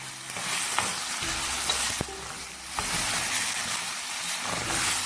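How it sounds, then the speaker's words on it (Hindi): Chicken frying in onion and ginger garlic paste for chicken jalfrezi gives a continuous close sizzle, punctuated by several knocks and scrapes of stirring. "प्याज और जिंजर गार्लिक पेस्ट में चिकन को फ्राई करेंगे"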